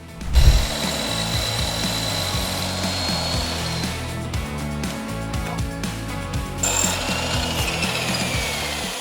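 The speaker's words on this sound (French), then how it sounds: "Nous allons d'abord scier ces 3 barres." Three wooden bars being cut for a weight bench rack, some with a bevel, with a loud, continuous buzzing saw whining through the wood at close range, one heavy thump at the start and no talking.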